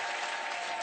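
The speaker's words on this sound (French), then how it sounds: "bravo à Benoît qui applaudit très très fort Paul" An audience at a French stage performance claps in a dense, steady burst of applause, loud and continuous for under a second with no voices on top.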